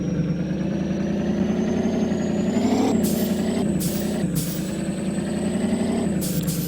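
A truck engine runs loud and close, its rumble rising and falling as it strains to get going, with sharp hissing bursts of air brakes breaking in several times and no talking.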